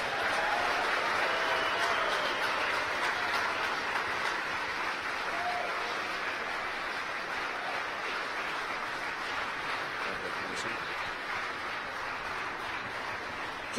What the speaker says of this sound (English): You hear the applause in the background here stage in Hawthorne.